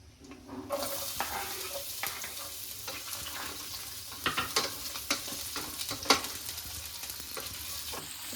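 Sliced onions and three cloves sizzle in a hot pan while being stirred, a continuous crackling fry with repeated scraping and stirring clatters throughout and no talk.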